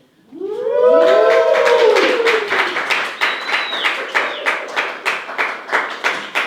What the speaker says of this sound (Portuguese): Recebam com uma salva de aplausos ela, nossa mediadora, Karina Flor.